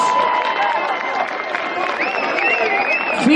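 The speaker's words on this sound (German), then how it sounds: "Euer Applaus." A crowd at an outdoor street festival in Cologne claps and cheers for the band, a dense continuous wash of applause with a voice over a loudspeaker talking above it.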